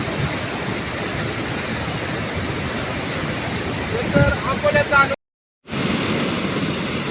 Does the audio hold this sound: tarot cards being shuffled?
no